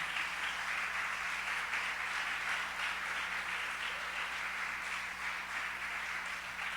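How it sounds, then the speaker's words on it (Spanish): A church congregation applauds during a sermon, a steady wash of many hands clapping that holds evenly throughout at moderate distance, with no one speaking over it. "Dele un aplauso fuerte al Señor."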